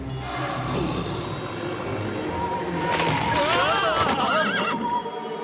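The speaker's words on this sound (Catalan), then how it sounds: "Els cavalls! Mira'ls! Tornen per salvar-nos!" Cartoon horses whinny loudly several times over a steady clip-clop of galloping hooves as they return at a run, with a character's voice calling out partway through.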